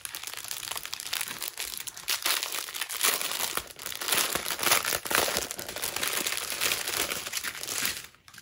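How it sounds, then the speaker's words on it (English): Small plastic baggies of diamond painting drills are handled and opened, giving close, loud, irregular crinkling and rustling in bursts throughout, with no talking. "And don't mind the crinkle if we can open this up."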